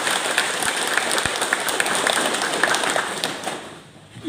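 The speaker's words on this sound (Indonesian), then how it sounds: "Tepuk tangan untuk itu." Audience applause at a community health event in Miomaffo Barat, Timor Tengah Utara, NTT, with steady, fairly loud clapping from a seated crowd that tapers off near the end.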